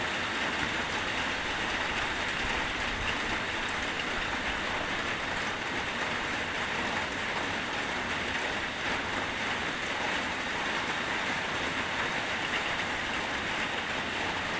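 Morning rain falls over flooded rural fields in an even, dense hiss that stays constant throughout with no voices.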